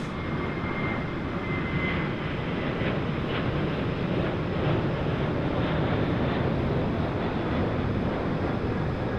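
A Qantas Boeing 737 at Sydney Airport at night produces a steady, broad jet roar that holds at an even level throughout, with wind buffeting the microphone and no talk.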